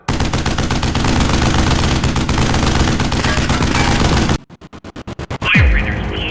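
Automatic gunfire in a Fallout video game ambush, a loud continuous rattling barrage that breaks into several separate bursts and ends with a falling whoosh.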